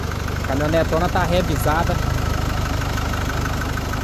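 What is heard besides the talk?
Nissan Frontier 2010 diesel engine idling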